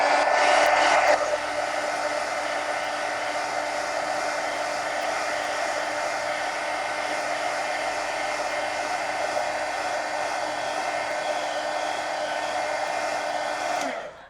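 Hair dryer blowing steadily and close up, drying a manga-style coloring page; a louder burst at the start settles into a continuous even whoosh for about fourteen seconds, with no talking.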